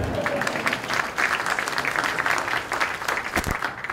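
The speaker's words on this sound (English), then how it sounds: "Give a big round of applause for him." Audience at a talk on data charts breaks into applause, a full, lively burst of many people clapping steadily for several seconds at close range.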